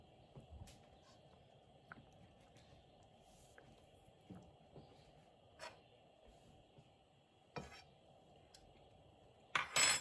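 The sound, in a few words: stirring chicken gravy in a pot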